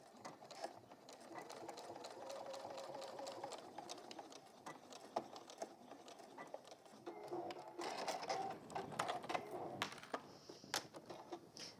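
A DX sewing machine stitches a bag in bursts of rapid mechanical whirring and clicking, pausing between runs, close and moderately quiet, with a few brief clicks and handling sounds.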